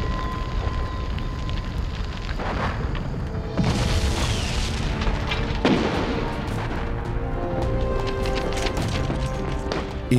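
Demolition charges exploding during the WWII Pacific island fighting, a heavy rumbling blast swelling over dense battle noise with further booms, loud and continuous throughout.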